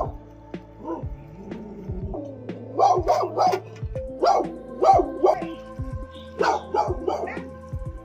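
A dog barks repeatedly in short bursts at a garden where trained pine bonsai trees are kept, the barks fairly close and clear, with brief gaps and faint whimpering between them.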